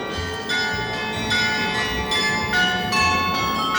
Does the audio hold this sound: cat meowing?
no